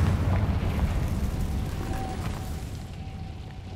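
A booming Bombarda blasting spell in Hogwarts Legacy, a loud, dense explosive roar that fills the clip and slowly fades with a rumbling tail, with no talk over it.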